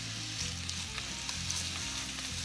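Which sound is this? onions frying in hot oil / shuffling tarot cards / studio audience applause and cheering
onions frying in hot oil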